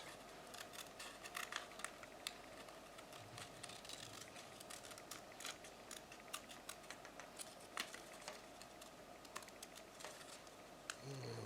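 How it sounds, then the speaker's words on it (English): Scissors snip through paper in a run of quick, crisp clicks, close and fairly quiet, with no talking. "line up those scissors, and cut"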